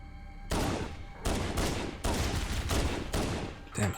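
Automatic weapons fire in bursts in Halo: Combat Evolved, with several loud, close, rapid volleys separated by short pauses and no talking.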